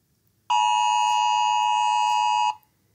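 A phone sounds an NL-Alert emergency alert, a loud, steady electronic tone held for about two seconds, starting abruptly and cutting off cleanly against near silence.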